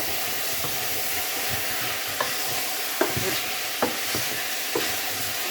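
Food sizzles steadily in a hot pan while a utensil scrapes and stirs a tagine of artichokes and peas, giving a few distinct clacks over the constant frying hiss.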